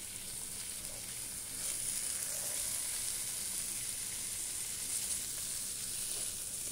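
Chicken wings frying in a pan without water and being turned over, giving a soft, even sizzle that swells slightly louder partway through and then holds steady.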